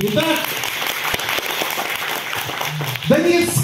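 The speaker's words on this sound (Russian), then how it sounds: "Давайте еще раз поддержим бурными аплодисментами." Audience applause following a children's drum ensemble performance at a music school in Donetsk, steady dense clapping filling the whole stretch, with a speaker's voice rising over it near the end.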